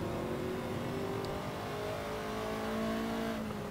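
A Ferrari 288 GTO in Assetto Corsa pulls out of the Brands Hatch Grand Prix pit lane, its engine droning steadily and rising gently in pitch as it accelerates, with no one speaking.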